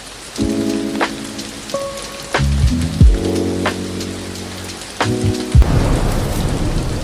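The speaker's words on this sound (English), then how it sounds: "What a storm." Heavy rain drums on an EarthRoamer LTX truck camper while close thunder cracks and rumbles several times, with no voices.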